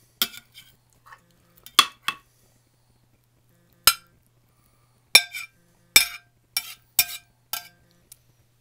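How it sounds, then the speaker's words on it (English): A spatula scrapes and clinks against a pan while cutting through a meatloaf stuffed with egg, Cooper cheddar cheese, onion and smokehouse ham, making scattered sharp metallic taps, several in quick succession, near and otherwise quiet. "I'm trying to cut this with a spatula."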